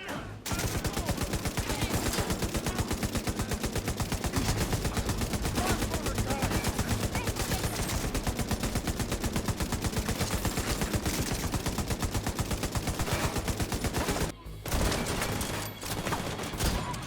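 Continuous rapid automatic gunfire in the video game The Division 2, loud and relentless for many seconds, with a brief pause near the end before the shooting resumes.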